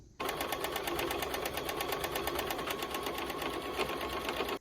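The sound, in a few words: sewing machine stitching a side seam on a top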